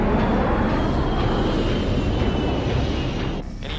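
A fighter jet roars loud and close in the film Top Gun, a steady dense engine rumble that holds throughout and eases slightly near the end.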